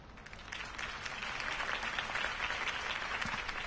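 A crowd applauds after a political campaign speech in an animated series, a dense, steady burst of clapping that swells quickly and holds at full strength with no voices over it.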